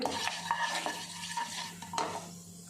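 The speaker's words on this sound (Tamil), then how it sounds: "கொஞ்சமாக ஒரு சோம்பு சோம்பு பொரியவும் ஒரு பிரியாணி இலை பட்டை கிராம்பு ஏலக்காய் இதை போட்டுட்டு" Whole spices being stirred in hot oil in a pan for Chettinad chicken: fennel, bay leaf, cinnamon, cloves and cardamom sizzling under a few scrapes and clinks of a ladle against the pan, close and fairly quiet.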